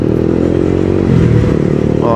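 A Thai-built Honda CBR 150 sport motorcycle with a 150 cc engine runs at a steady, loud, close-up drone that rises slightly in pitch near the end.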